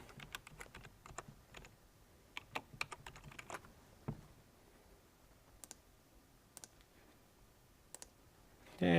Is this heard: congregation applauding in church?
no